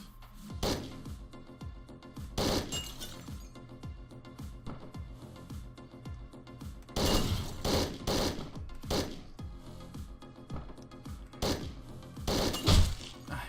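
Video game gunfire from Hotline Miami 2 crackles in loud repeated bursts, with sharp shots and shattering impacts scattered over steady game music.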